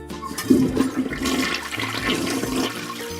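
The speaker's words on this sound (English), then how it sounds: "he threw the dirty toilet paper into the toilet and gave it a flush" A toilet flushes with a sudden rush of water that swirls and gurgles steadily for a few seconds, heard close and alone.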